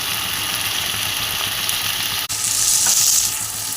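Potatoes frying in oil with spice paste, a steady loud hiss of sizzling that swells after a brief dip in the middle, with no talk.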